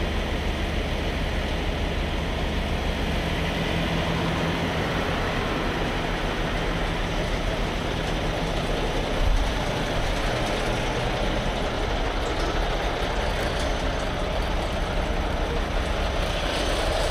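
A truck engine idles with a steady, unbroken low rumble and broadband noise, holding constant throughout without voices.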